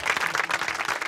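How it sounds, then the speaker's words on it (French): Campers at a campsite applauding their newly volunteered treasurer, a brief burst of dense, steady clapping from a small group, close and uninterrupted. "c'est gentil et on l'applaudit"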